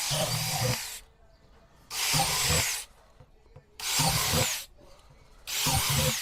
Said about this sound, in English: So I'm going to drill 6 holes.